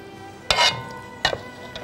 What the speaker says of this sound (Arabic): ونبتدي دلوقتي نحط عليها من الصوص اللي هو كان فيه التين.